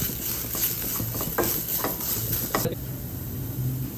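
Turmeric, asafoetida, chili and garlic sauté in hot oil in a pan, a steady close sizzle with a few scraping stirs and clinks of a utensil against the pan.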